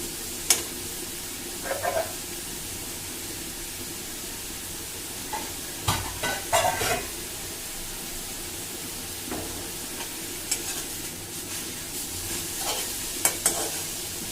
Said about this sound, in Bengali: এই যে কলই শাকটা একটু সিদ্ধ করে নিচ্ছি